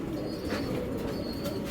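Pigeon kept among racer and fancy breeds, giving soft low coos against a steady background hum, close and fairly quiet over under two seconds.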